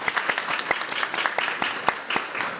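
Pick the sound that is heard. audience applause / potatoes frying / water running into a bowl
audience applause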